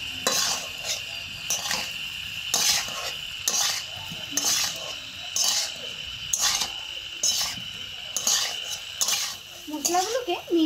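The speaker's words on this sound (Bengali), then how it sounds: "এবার আমি আলুটাকে ভালো করে মিশিয়ে ম্যাশ করে নেব।" Boiled potatoes being mixed with chilli powder, turmeric and chaat masala, then mashed with a metal spatula, giving repeated rhythmic scraping and knocking against the pan, fairly close.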